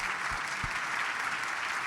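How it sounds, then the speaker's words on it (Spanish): An audience at a talk on vaccination and youth gives a steady burst of clapping that lasts under two seconds, at moderate loudness and with no voices. "De verdad, un aplauso para vos, Sole."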